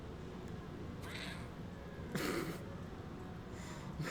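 A cat meows a few times in the video game YIIK: A Postmodern RPG. The meows are short and moderately loud and sit over a steady bed of background game audio.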